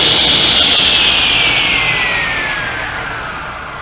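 A table saw fitted with a zero clearance insert plate cuts through wood with a loud, close, high whine whose pitch slowly falls as the cut goes on, continuous and without talk.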